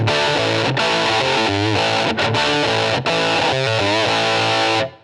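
Electric guitar with a heavy distorted tone run through two amp models at once, playing a steady chugging riff with sustained chords, loud and continuous until it cuts off near the end.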